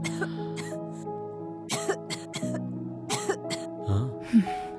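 A person with a cold and breathing trouble coughs in a series of short harsh bursts and throat clearing, spaced irregularly, with background tones underneath.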